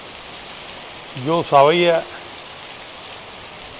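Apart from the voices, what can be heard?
rain falling on the street in Caibarién, Cuba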